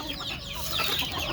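Chickens on a small farm of desi hens, clucking softly and continuously close by while their feed is being mixed, with no talking.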